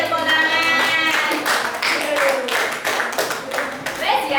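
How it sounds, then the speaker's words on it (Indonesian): A classroom audience of students claps together in a loud, steady burst of applause that continues throughout, with voices mixed in underneath. "beri tepuk tangan"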